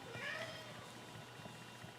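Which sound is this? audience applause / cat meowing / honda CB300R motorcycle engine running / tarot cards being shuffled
cat meowing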